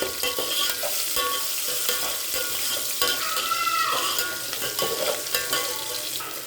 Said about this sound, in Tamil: பட்டை சோம்பு கிராம்பு வெங்காயம் போட்டுக்கலாம் நல்லா வதக்கிடலாம்